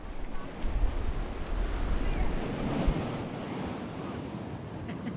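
Ocean waves wash onto an Assateague shoreline under gusty wind, a rolling surf roar with buffeting wind noise on the microphone, swelling and easing over several seconds.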